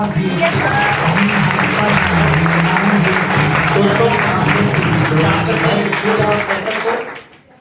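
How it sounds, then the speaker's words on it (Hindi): A seminar audience claps loudly and steadily for about seven seconds in a continuous dense wash of applause close by, fading out quickly at the end. "और एक बार हमारे सर के तालियां हो जाए।"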